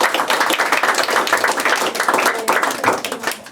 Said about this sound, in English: I'm gonna give a round of applause.